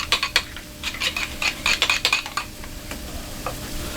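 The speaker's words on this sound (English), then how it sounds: "We're gonna mix that all together." A spoon stirs a roughly half-and-half mixture in a bowl for a smoked turkey melt, giving a run of close, irregular scraping and clinking strokes that trail off toward the end; no one speaks.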